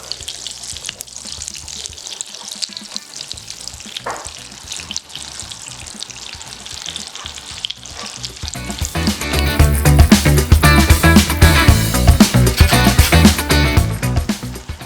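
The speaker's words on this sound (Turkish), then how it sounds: "Her iki tarafını da pankek gibi pişireceğiz." Syrniki cooking in a thin layer of oil in a pan make a soft sizzle that swells into a louder, dense crackling in the second half, with occasional handling noises.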